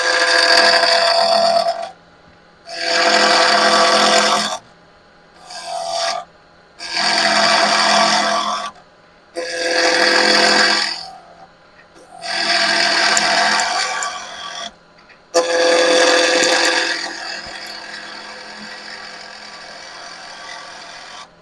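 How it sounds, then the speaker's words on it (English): A square carbide tool cuts a sycamore goblet on a wood lathe, making a loud, close, rough whirring scrape in about seven bursts of one to two seconds each. Brief quiet gaps separate the bursts, and the last cut fades out slowly. "I'm going to use a square carbide to take this down first"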